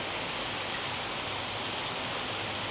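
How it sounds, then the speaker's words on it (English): Rain falling outside in Bangalore, a dense, steady hiss of drops on surfaces, close and even for the whole stretch with no voices. "it's raining outside. It's been like this for the past few days."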